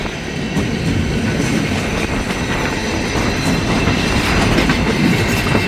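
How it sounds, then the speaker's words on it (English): A long container freight train rolls past close by in Hamilton, Ohio, a loud continuous rumble of wheels and cars with rhythmic clatter throughout. "gosh, this is one long train."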